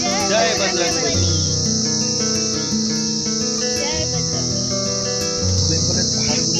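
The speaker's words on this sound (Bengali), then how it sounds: "বেঙ্গলের পাহাড়গুলো দিনের বেলায়ও কিন্তু এরকম একটা সবসময় ঝিঝি পোকা ডাকে" Crickets shrill loudly and continuously in the daytime forest of the North Bengal hills around Delo and Takdah, a dense high-pitched drone with musical tones and faint voices beneath.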